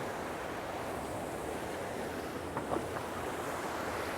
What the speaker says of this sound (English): you can see that same brown liquid just bubbling all over the place